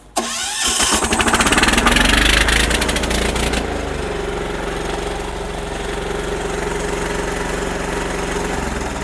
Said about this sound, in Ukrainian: ось так ми заводимо наш мотоблок